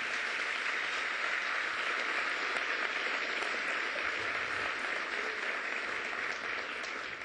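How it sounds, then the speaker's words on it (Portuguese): A church congregation applauds for the Lord during a worship service, sustained dense clapping from a large crowd, steady and even throughout without letup. "Dê um aplauso ao Senhor."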